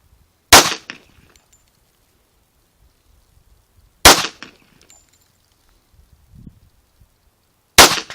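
Gunshots at a shooting range: three sharp, loud single reports spaced a few seconds apart, each with a short echoing tail and quiet pauses between.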